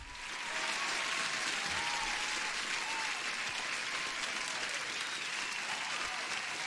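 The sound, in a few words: applause sound effect on livestream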